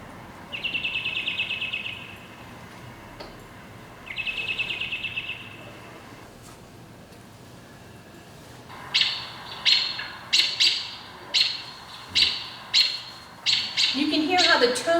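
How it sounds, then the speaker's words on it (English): A songbird at a Westborough Community Land Trust site gives two drawn-out whistled phrases, then a rapid run of about eight sharp, agitated alarm chirps, fairly close over a quiet outdoor background. "you can see why this is an alarm call, because he's upset about something"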